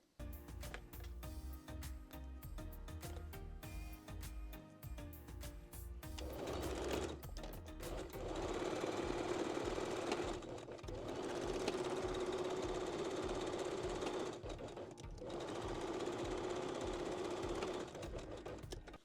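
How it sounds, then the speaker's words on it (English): Sewing machine stitches bikini binding edges in steady, fast mechanical runs, starting and stopping in a few long bursts, close and alone without talk. "place all bands right sides together and pin and sew"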